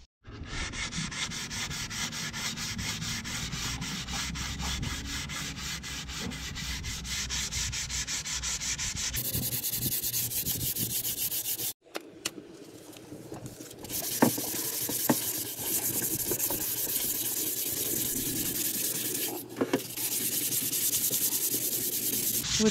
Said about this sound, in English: once that's set we can then start finishing the edges off and getting it all nicely sanded